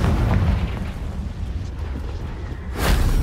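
Bombarda and Confringo spells blast in Hogwarts Legacy, a continuous heavy rumbling of explosions with a fresh loud burst near the end, no voices audible.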